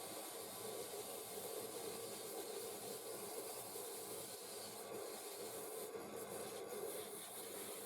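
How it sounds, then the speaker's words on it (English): Steady abrasive rubbing of 80-grit sandpaper against a laminated wooden bowl on a woodturning lathe, a continuous close scratchy hiss with no talking. "And back to sanding again, 80 grit."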